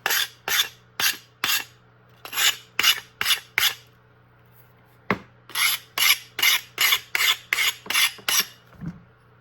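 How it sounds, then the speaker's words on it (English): A blade is drawn through a small workshop knife sharpener in quick rasping strokes, close and loud, first in short bursts of three or four, then after a pause in a longer run of about ten even strokes. "or you can sharpen like that."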